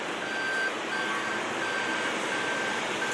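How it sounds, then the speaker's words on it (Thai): The parking sensor of a 2018 Toyota Camry 2.0 G automatic beeps in evenly spaced, thin electronic tones while the car reverses. The beeps sound close and clear over a steady background hiss. "ใกล้วัตถุข้างหลังแล้วนะครับ"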